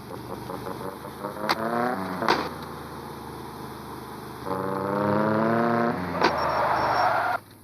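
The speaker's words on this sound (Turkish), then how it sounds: "en azından biraz ara gaz verebiliyor" Engine revving in a driving video game, a rising harmonic whine that climbs and falls in several pushes with sharp shifts between them, loud and steady with no talk over it.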